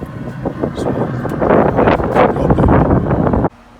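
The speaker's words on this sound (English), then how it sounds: "Sorry for the wind, if you can hear the wind." Gusty wind buffets the microphone outdoors beside a Pit Boss pellet smoker grill, a loud, rough rumble swelling over a few seconds before dropping away suddenly near the end.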